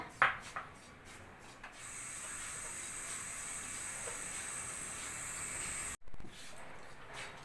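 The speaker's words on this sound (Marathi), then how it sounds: "त्याच्यानंतर आता तांदळाची पिठी ती पण आता आपण भाजून घेऊया" Dry rice flour is roasted in a pan and stirred, giving a soft continuous hiss and scraping rub, fairly quiet, with a few clinks at the start and a brief break near the end.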